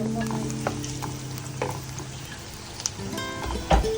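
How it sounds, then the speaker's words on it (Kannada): Ginger, green chili and garlic frying in a hot pan, a steady close sizzle with occasional stirring clinks and scrapes, no voices. "ಇದೀಗ ಫ್ರೈ ಆಗ್ತಾ ಬಂದಿದೆ."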